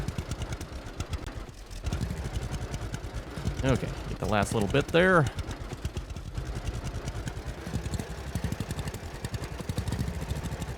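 A tractor engine in the farming game Farmer's Dynasty idles and runs with a steady mid-pitched drone throughout, loud and continuous beneath someone talking briefly in the middle.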